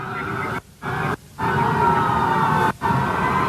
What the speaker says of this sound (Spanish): Se están escuchando las ambulancias que vienen algunas cuadras.